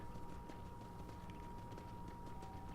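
Horse hooves clip-clop at a steady riding pace in the Red Dead Redemption western video game, a continuous low rhythmic clatter under a faint tonal game soundtrack, with no talk.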